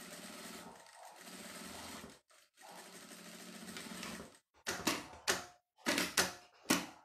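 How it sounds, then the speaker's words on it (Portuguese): Sewing machine stitching a seam along the edge of a small fabric bag, running in a long steady burst, pausing, then a second long run followed by several short quick bursts with brief gaps. "Bate uma costurinha bem aqui na beiradinha."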